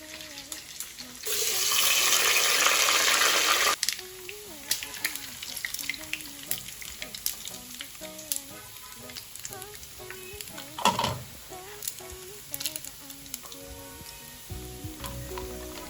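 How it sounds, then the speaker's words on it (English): Turkey and pork meat, already boiled in stock, sizzles loudly as it hits a hot pan, a bright burst of frying that settles into quieter crackling with scattered clinks and stirring for the rest of the stretch. "Meat is ready. And I'll fry it now."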